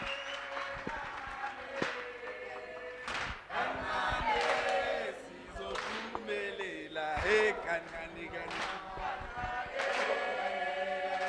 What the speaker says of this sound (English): So a round of applause for Mr. Lesego, executive from part of Promaths